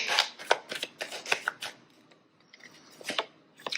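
Tarot cards shuffled and drawn by hand, a quick run of crisp riffling flicks and slaps that pauses briefly before a few more snaps, close and fairly quiet with no talking.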